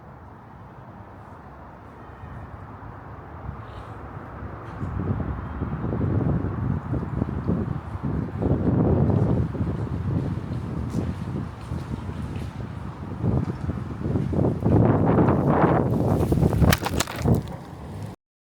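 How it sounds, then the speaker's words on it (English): Wind picks up outdoors in a yard, a rough buffeting rush across the microphone that builds gradually and grows louder in gusts toward the end, with no voices. "you're going to hear the wind start to pick up a little bit"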